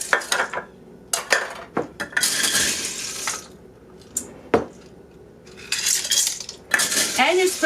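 A cup of uncooked macaroni going into a crockpot of hamburger minestrone soup: dry pasta clattering and rattling against a measuring cup and pot in several close bursts, with scraping and stirring between them.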